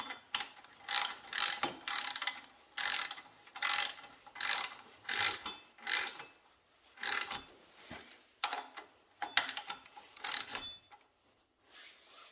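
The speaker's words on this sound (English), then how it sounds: "Got this handy ratchety one. Sidewinder." A Sidewinder ratchet wrench loosens a wheel on a 1987 Harley FXR motorcycle with a wire wheel, making rapid close clicking bursts in a steady back-and-forth rhythm, about a dozen strokes with short pauses between.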